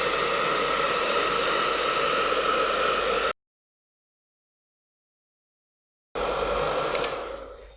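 Hair dryer blowing with a steady hiss to dry tea-dyed envelopes, cutting out for about three seconds, then resuming and tapering off.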